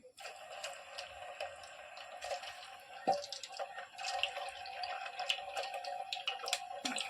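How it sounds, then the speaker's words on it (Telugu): Boiled chicken pieces crackle and tick in hot oil in a pan while frying for chicken avakaya pickle, giving a steady close sizzle with scattered sharp pops and no talking. "నూనె బాగానే వేడయ్యిందండి ఇప్పుడు మనం ఈ ఉడకబెట్టిన చికెన్ దీంట్లో వేసుకుందాం"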